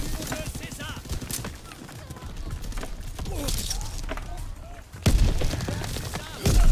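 M1A1 carbine firing in Call of Duty WW2, with sharp gunshots in a moderately paced, uneven series amid other battle noise and mechanical clicks, fairly close.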